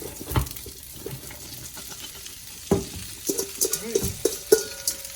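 Cabbage sautéing in a pot for a vegan cabbage potato soup, a soft steady sizzle broken by scraping stirs and a few sharper clatters of a utensil, with a brief water-like splash near the end.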